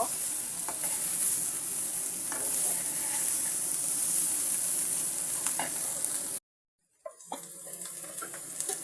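Papaya fry cooks in hot oil while being stirred, a loud continuous hiss of sizzling with occasional utensil scrapes, cutting to near silence before a quieter crackle resumes.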